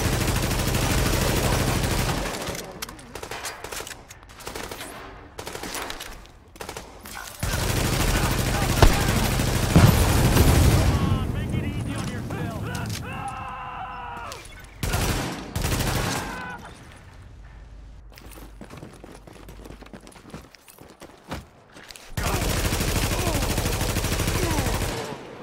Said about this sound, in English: More bullets, more explosions.